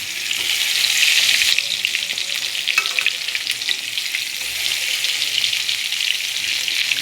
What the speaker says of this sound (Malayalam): ഇത് നമുക്ക് ഫ്രൈ ചെയ്തെടുക്കണം